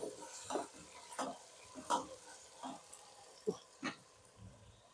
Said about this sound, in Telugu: అల్లం వెల్లుల్లి పేస్ట్ అంతా బాగా వేగింది కదండి.